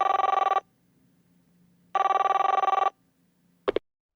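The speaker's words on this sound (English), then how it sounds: "Spid picked up the telephone and rang Herman." Old-style telephone bell ringing in a children's story, two long trilling rings separated by a pause, then a short clack as the receiver is picked up; clear and close with no voices.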